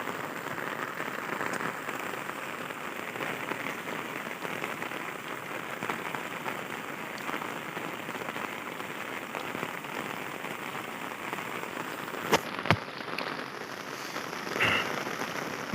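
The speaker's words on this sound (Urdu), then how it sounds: "اس میں شدید بارش ہے" Heavy rain pours down over a village during a storm, a dense, loud, continuous patter on surfaces with a couple of sharp clicks near the end and no voices.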